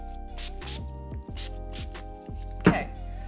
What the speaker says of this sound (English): I'm just gonna spray myself with this NYX matte finish again